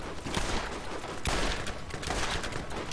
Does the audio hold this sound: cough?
no